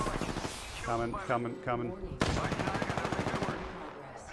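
Rapid automatic gunfire bursts in the battle royale game Apex Legends on PS4, a dense rattling volley in the second half, while players talk over the action.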